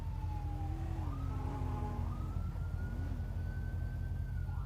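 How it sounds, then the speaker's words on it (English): An emergency vehicle siren in a police video game, a wailing tone that sweeps up and down steadily over a constant low engine hum, fairly loud and continuous with no talk. "I don't know what siren I'm hearing right now, but that shit is crazy."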